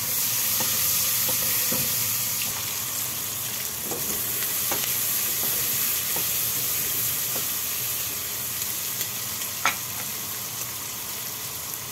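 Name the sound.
onion frying and sizzling in pan for beans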